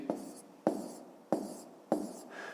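Pen writing by hand on paper while working a fifth-grade maths exercise, four distinct strokes spaced about half a second apart, close and moderately quiet with no talk.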